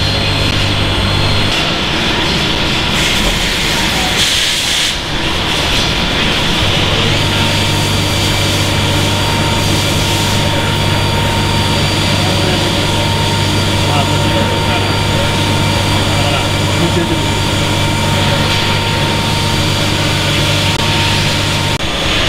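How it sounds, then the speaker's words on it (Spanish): An automated machining station drilling and threading exhaust and stud holes in engine cylinders, a loud continuous mechanical whine and hum with steady low-pitched drone in a workshop, briefly dipping before resuming. "Se realiza aquí en esta máquina completamente automatizado."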